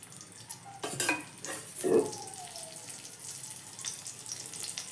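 Rice with kadhi going into hot oil in a pan, a faint sizzle with a few clinks of a utensil against the pot and scraping stirs, close and fairly quiet, with no talking.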